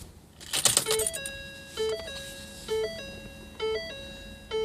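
Keys on a 2010 Mustang GT jangle briefly and close up as the ignition is switched off, followed by a repeating electronic door chime ringing in regular bursts.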